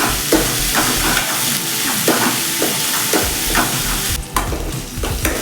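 Chopped onions fry in a hot pan for a Kannada-style bele bendekayi huli, giving a steady close sizzle with repeated scraping strokes of a spoon stirring through them.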